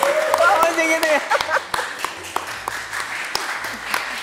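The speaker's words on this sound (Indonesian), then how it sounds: "Untuk yang lain, tepuk tangan dong." Scattered audience clapping during an Indonesian chat session with mentors, a few sharp, uneven claps under ongoing talking and a sustained tonal sound near the start.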